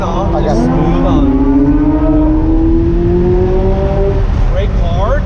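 A McLaren 570S supercar engine on a track, a steady loud drone with a rising tonal pitch as the car accelerates smoothly, engine note continuous throughout under occasional background noise.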